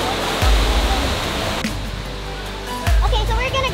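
A waterfall at Erawan Falls in Thailand roars as a broad, steady rush of water nearby, with loud wind buffeting in bursts and some faint talk in the background.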